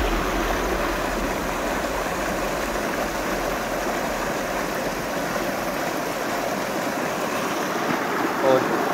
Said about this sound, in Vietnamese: con suối bên cạnh thì thực sự là quá đẹp